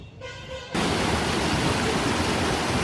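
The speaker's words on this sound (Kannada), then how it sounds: "ಇಲ್ಲಿ ನೀರು ಹರಿತಿದೆ ಅಲ್ಲ" A mountain stream rushes nearby, its loud, dense, unbroken wash cutting in abruptly after a brief quieter moment and holding steady with no voices.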